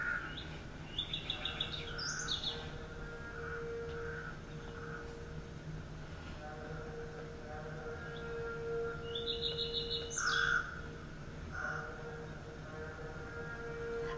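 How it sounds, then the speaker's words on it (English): Birds chirp in short high bursts twice against a steady background of music-like hum, moderately faint and distant. "I like the birds chirping."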